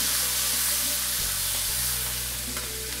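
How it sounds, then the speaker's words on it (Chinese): Pickled chili and sour cabbage sizzle loudly in hot oil in a wok with scallion, ginger and garlic, a dense continuous frying hiss with scraping stirs close by. "翻炒一下"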